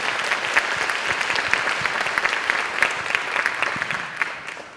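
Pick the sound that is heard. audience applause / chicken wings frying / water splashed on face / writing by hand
audience applause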